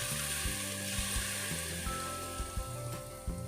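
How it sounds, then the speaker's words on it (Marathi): Hot tempering poured over raw mango takku hisses with a steady, close sizzle that fills the whole moment, with faint stirring underneath. "तर आता आपण ही सगळी फोडणी यावरती घालून घेणार आहोत"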